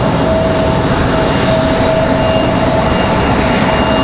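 Embraer E175 airliner at RDU airport, a loud, constant broadband jet roar with a thin steady whine on top, close and unbroken throughout, no voices.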